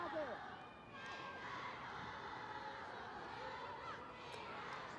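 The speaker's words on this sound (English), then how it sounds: "as you can hear the crowd getting involved" Home crowd at a women's AFC club football match between Hyundai Steel Red Angels and Bam Khatoon FC, a steady distant roar of cheering and shouting that runs throughout at moderate level.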